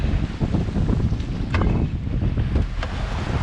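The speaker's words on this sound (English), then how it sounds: "we got plenty of wind and plenty of power today" Strong wind roars across the microphone on a sailboat under way, a continuous loud buffeting rush with water sloshing beneath it and no speech.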